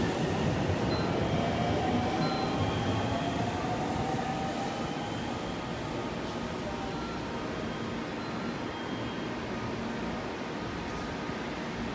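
A train rolls into Shizuoka station with a steady, loud rumble of wheels on rails and faint high squeals throughout, heard from on board and without talk.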